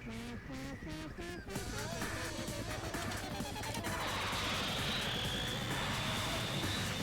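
Helicopter in the video game Danganronpa 2, its steady rotor and engine drone building loud and continuous with a dense mechanical roar and some clattering over several seconds.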